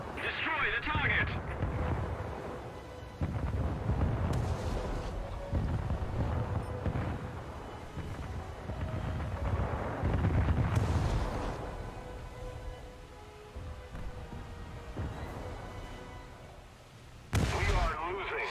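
Naval guns fire on an enemy destroyer in a warship video game, with repeated heavy booms and rumbling blasts spread through the stretch, some near and loud. Someone talks over much of the gunfire.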